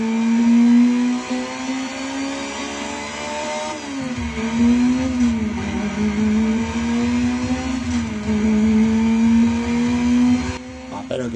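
Car engine in the racing video game Burnout Legends on PSP, a steady droning engine note that rises and dips with acceleration, continuous and fairly loud throughout with no talking.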